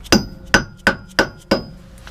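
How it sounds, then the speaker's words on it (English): A hammer strikes metal five times at a steady, even pace, each blow sharp, loud and close, driving a wheel axle into place on a Jeep being rebuilt with RC-style methods. "You have to use a lot of elbow grease and a hammer."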